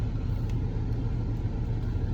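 A car engine as the car is driven, heard as a steady low rumble from inside the cabin, even and continuous with no clear revving.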